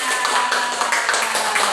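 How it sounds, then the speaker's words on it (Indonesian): Brief burst of group hand clapping from a class or audience, close and fairly steady for under two seconds, with voices faintly under it. "Tepuk tangan semuanya"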